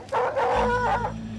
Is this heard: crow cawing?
no